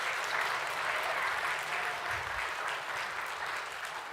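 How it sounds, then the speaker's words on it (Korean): A church congregation applauds at a Sunday service after a cantata, a thick, sustained wash of clapping from a large crowd that stays loud and even before easing slightly at the end. "다시 한번 박수 우리 전사님에게."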